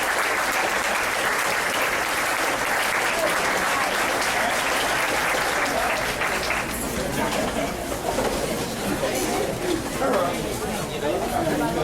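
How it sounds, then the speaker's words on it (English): A school audience applauds a guest at a speech event, a dense, sustained clapping that fills the room for the full stretch, thinning slightly toward the end with some chatter mixed in. "if everyone would stand up and give him a round of applause"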